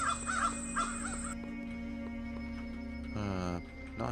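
Inside an RPG horror game, a crow lets out a couple of rasping caws near the start and another near the end, set against a humming, tonal ambient bed.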